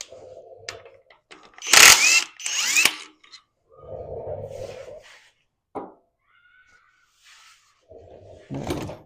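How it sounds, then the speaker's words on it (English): Work on the crank bolt of a HEMI 5.7 engine brings two loud, harsh tool bursts near the start, followed by quieter clunks and short sounds with a voice speaking in the pauses. "We'll see if we can't get this crank bolt pop loose."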